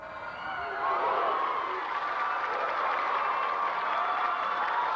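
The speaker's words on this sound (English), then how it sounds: "And you can tell by the reaction of the crowd" Crowd roars and cheers in a gym at a CIF Southern Section Division 3 semifinal men's basketball game between University and Santa Margarita. The noise is loud and sustained, with a cheering swell that holds for several seconds.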